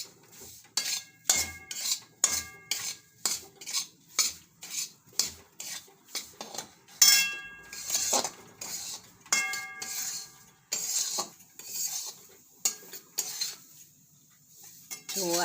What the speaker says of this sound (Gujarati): આપણે લોટને એકદમ સરસ શેકવાનો છે